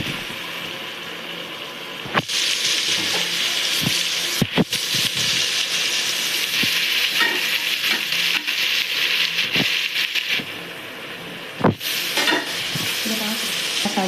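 Food sautéing in a pan gives a continuous loud sizzle with repeated sharp spatula clanks and scrapes against the metal, close up and without talk.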